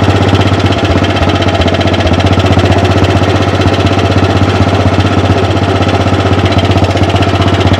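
A custom 1948 AJS 500 motorcycle engine runs in second gear, producing a loud, close, rapid thumping beat that stays constant throughout.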